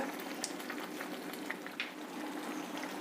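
Carrot kadi, a curry, boils in a pot on the stove while coriander leaves go in, making a steady close-up bubbling and faint sizzling simmer with small pops and no voices.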